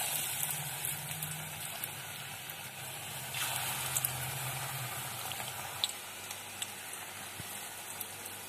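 Cabbage pakoras (badhakopi pakora) frying in hot oil give a soft, steady hiss with faint crackles throughout, fairly quiet and with no talking.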